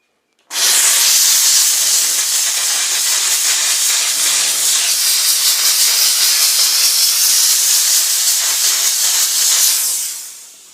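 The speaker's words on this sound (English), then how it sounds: "Dry steam straight away." A Dupray One Plus steam cleaner sprays dry steam in one loud, continuous hiss that starts abruptly and runs for about ten seconds before tapering off, close to the microphone and without speech.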